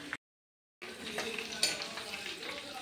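Banana flower pieces frying in a pan, a steady broadband sizzle with occasional stirring scrapes, close and moderately loud after a brief silent gap near the start.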